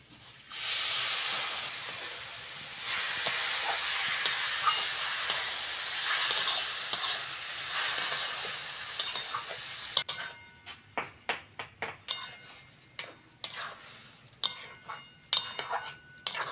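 Water splashed into a hot pan of coconut and sugar filling gives a loud, hissing burst of steam for several seconds, then gives way to a series of sharp clinks and scrapes as the mixture is stirred.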